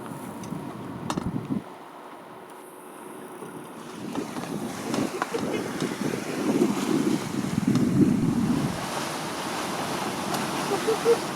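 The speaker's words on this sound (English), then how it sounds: "The wind whipped up right at the end and Latitude took off." Wind blows steadily around a sailboat under way, a low rushing roar with water sounds that swells and grows louder toward the end, with faint background noise and no talk.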